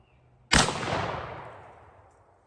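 A single loud blast from a budget semi-automatic shotgun fired at a Miller Lite beer can, sharp onset followed by a long fading echo, with no talking.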